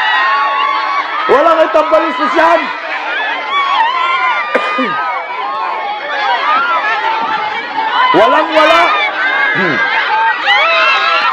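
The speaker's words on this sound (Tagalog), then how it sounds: "Walang hupay na sigawan" A crowd at a political rally shouts and cheers loudly and nonstop, with whoops and chatter close by and people talking over the roar.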